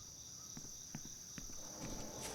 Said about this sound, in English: Oh god, the crickets are so loud.